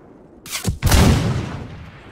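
Two sharp, close gunshot blasts crack in quick succession during a multiplayer war video game, the second ringing out into a decaying boom.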